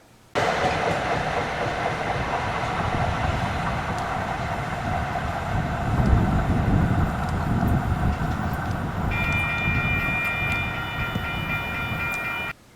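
A train rumbles steadily past on the tracks, loud and close, its roar holding for several seconds while a high whine rises near the end.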